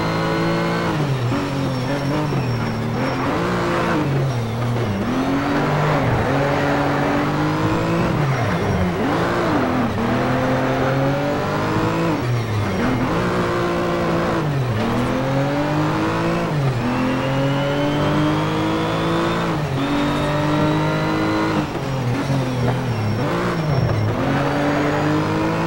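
A Porsche race car in Need for Speed Shift roars continuously, its engine revving and climbing through gears with repeated pitch sweeps, loud and close throughout.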